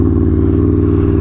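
An Aprilia Tuono V4 1100 Factory motorcycle fitted with an SC Project exhaust runs with a loud, steady, close engine drone that holds its pitch without revving.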